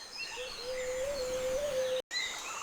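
Birds call in the Amazon forest at dawn, a thin steady whistled note holding through most of the stretch with faint higher chirps above, set against soft insect hum, then a brief break and a short high call.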